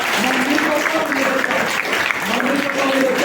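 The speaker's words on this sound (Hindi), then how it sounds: "इस बच्चे के इस साहस के लिए बहुत बहुत तालियां हैं" Applause from a crowd at a school Independence Day celebration, steady and fairly loud, with a voice talking over the clapping.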